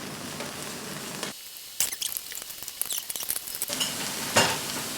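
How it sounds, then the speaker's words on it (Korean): Scallion oil stir-fried in a pan for spicy jjamppong made with jjolmyeon noodles, heard as a steady sizzle with an abrupt dip, then bursts of scraping and clattering stirring strokes before the frying hiss swells again, close and with no talk. "이렇게 파기름부터 먼저 내게 네, 이렇게 해서 볶아줍니다"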